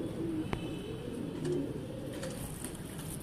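A Sialkoti pigeon coos softly a couple of times over steady background noise, with a single sharp click early on.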